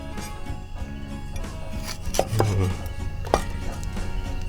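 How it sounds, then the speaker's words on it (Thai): Raw eggplant being thinly sliced with a knife on a wooden board, quick irregular cutting strokes and a couple of sharper knocks, close and moderately loud over faint background noise. "ใส่มะเขือ อันนี้จะใส่ดิบๆแบบนี้แหละเด้อแต่ว่าเราจะซอยบางๆนิดนึง"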